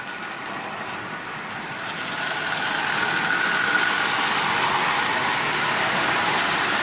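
A Marx 999 toy train locomotive running on tin litho rail: a continuous whirring, rattling motor hum that rises slightly in level and holds steady, close up and with no one talking.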